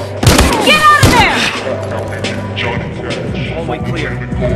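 Gunfire rings out in the police shooter game Battlefield Hardline, with loud sharp bursts and booms early on, then scattered shots and thumps under shouted radio-style voices.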